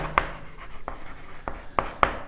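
Pen scratching on paper while a maths solution is written out, a few short quick strokes and taps close up in a quiet room.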